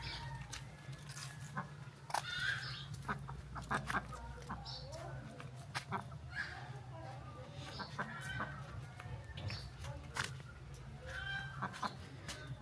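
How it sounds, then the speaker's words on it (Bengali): A restless hen clucks loudly and repeatedly while searching for a place to lay an egg, with sharp calls rising over a steady low rural background hum. "অনেকক্ষণ ধরে মুরগিটা খুব চিল্লাফাল্লা করতেছে ডিম পাড়ার জন্য"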